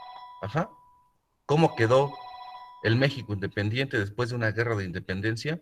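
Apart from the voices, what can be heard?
telephone ringing during a lesson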